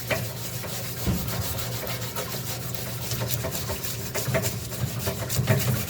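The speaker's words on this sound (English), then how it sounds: "Let's see if we can hit it with this Scotch-Brite." A Scotch-Brite pad scrubs sticker residue off the valve cover of a 1985 Mercedes 300SD in close, rapid back-and-forth rasping strokes that grow slightly louder toward the end.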